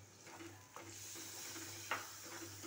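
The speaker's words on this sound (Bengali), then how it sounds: "এটা দিয়ে অল্প একটু এটাকে মশলাটাকে নড়াচড়া করে নেব" A spoon stirs whisked yogurt into sizzling masala in a pan for shahi paneer, with a steady hiss and a few soft scrapes and knocks.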